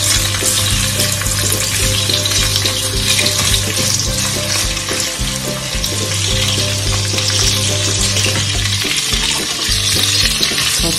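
Shrimp stir-frying in a curry powder sauce gives a loud, steady sizzle and hiss that fills the whole stretch, with a constant low hum underneath and no voices.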